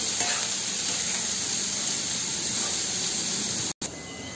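Chopped carrots stir-fry in a pan over a low flame for veg fried rice, giving a steady, close sizzle and hiss throughout with a brief dropout near the end, and no talking.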